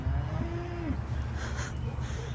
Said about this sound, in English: That doesn't sound like a good cow noise.